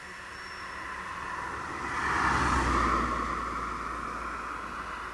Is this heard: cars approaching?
yes